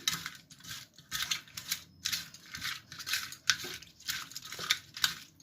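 Raw prawns being mixed by hand with chilli, turmeric and salt in a bowl, giving bursts of wet, clattering scrapes in an irregular rhythm, close and moderately loud with short pauses, no talking.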